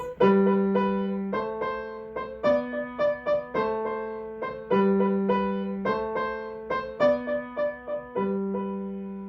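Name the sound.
piano playing chord thirds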